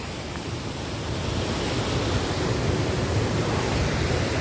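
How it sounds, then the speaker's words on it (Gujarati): A waterfall pours at Galdhara dam near the Khodiyar temple: a steady, dense roar of falling water, constant and fairly loud throughout with no pauses. "કાંઈ ઘટે નહીં એવો ધોધ પડી રહ્યો છે"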